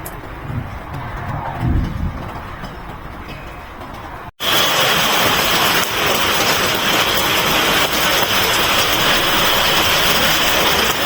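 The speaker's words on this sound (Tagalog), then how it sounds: "Rain, rain, go away. Maulan na hapon." Steady afternoon rain begins abruptly partway through, a loud, dense broadband hiss that continues unbroken to the end after a quieter opening with faint low rumbling.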